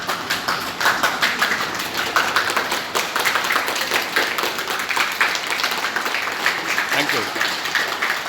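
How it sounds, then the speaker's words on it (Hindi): Students at a village school yoga meditation session in Neemrana, Rajasthan, clapping together, a steady patter of many hands that keeps up throughout, mixed with crowd noise and voices. "तालियां बजाओ।"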